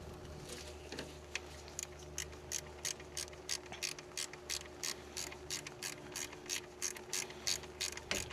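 Ratchet tightening a fitting on the VVT filter screen of a 2015 Toyota Sienna AWD, a quiet run of rapid evenly spaced clicks in repeated bursts over a faint hum.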